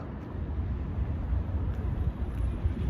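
Steady wind beside a caravan rumbles and buffets against the microphone, a low continuous roar lasting throughout with no one talking.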